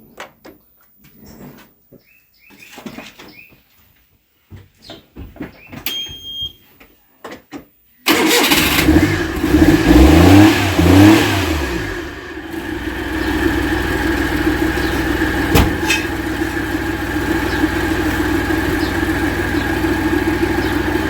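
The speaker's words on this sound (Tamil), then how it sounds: "இப்போ வந்து வண்டி இன்ஜினை ஸ்டார்ட் பண்ணி விட்றோம் பாருங்கள்" A Maruti 800 car with an inverter connected: a few quiet clicks and knocks, then the engine cranks and catches with a loud burst and settles into a steady, even idle that runs on close by, with no talk.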